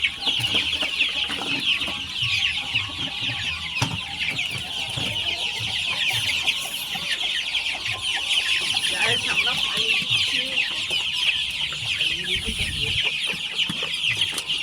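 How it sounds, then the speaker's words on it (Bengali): Chickens cluck continuously on a small poultry farm while being given water, a dense close-up chorus of hens with faint background noise and no talk. "আমরা পানি দিচ্ছি মুরগিগুলোকে।"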